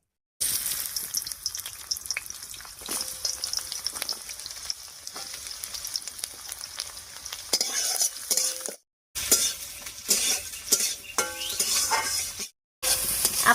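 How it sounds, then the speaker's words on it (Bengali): Chopped onion, green chilli and garlic hitting hot mustard oil, a loud, close crackling sizzle with frequent spatula scrapes and stirring, briefly cut off twice, no voices. "তেল গরম হয়ে গেছে, এবারে তেলের উপরে দিয়ে দিচ্ছি পেঁয়াজ কুচি"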